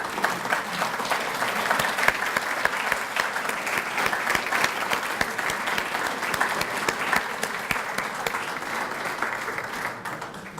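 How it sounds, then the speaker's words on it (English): An audience gives sustained applause to volunteers at the City of Centerville volunteer celebration, a dense, even round of clapping at moderate level with no talk. "If you'd stand up and receive a round of applause for the tremendous work you do for the City of Centerville."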